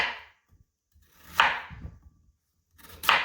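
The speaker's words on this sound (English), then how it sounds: "once we're done cutting the beets, we're going to do the same for the ginger." A knife chops through beets in a few separate, deliberate strokes, each a crisp, close cut with short pauses of quiet between them.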